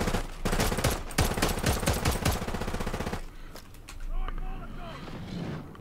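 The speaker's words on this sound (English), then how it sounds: "I've got a... I don't even know what this is. It's a assault rifle." Assault rifle gunfire in a shooter video game comes in rapid, loud automatic bursts and then gives way to quieter game ambience, with a player talking over it.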